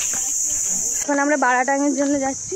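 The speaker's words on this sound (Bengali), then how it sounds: "এখন দিনের বেলাতেও ঝিঝি পোকার ডাক।" Crickets chirping in daytime forest on Baratang Island, a steady high-pitched drone running throughout, nearly alone at first and then continuing beneath someone speaking.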